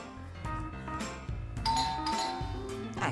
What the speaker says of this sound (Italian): è anche suonato il campanello